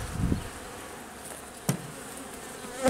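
Honeybees buzzing softly at an open hive box, a low steady drone of insects with a couple of brief louder bumps from handling nearby.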